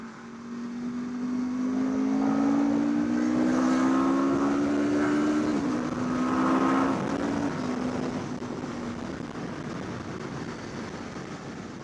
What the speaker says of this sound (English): This exhaust is so much louder than my stock Ducati exhaust.